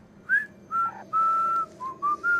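A person whistling a short tune of about six clear notes, some brief and one long held, close and alone with no talk over it.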